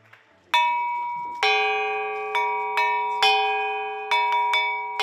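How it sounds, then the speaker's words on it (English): A resort lunch bell in Fryeburg, Maine rings out clearly in a series of about seven evenly spaced metallic strikes, each bright tone ringing on and decaying before the next. "Ah, the nostalgic lunch bell, a siren song for our resident foodie Vanessa, who made her way over to the dining"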